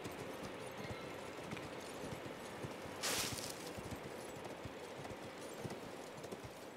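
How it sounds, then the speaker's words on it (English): Steady clip-clop of horse hooves at a walking pace in the video game Elden Ring, over a constant low background hum, with a brief burst of hiss partway through. "And I'm on a horse."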